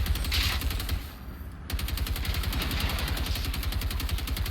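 Sustained rapid automatic gunfire in a Generation Zero base defence battle, a dense unbroken stream of shots with a brief lull before the firing resumes at full intensity.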